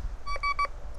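Three short, smeared electronic tones from a Golden Mask Coin Killer metal detector with a Spider 9-inch coil as it sweeps over a stone; the blurred beeps sit close over faint background hiss.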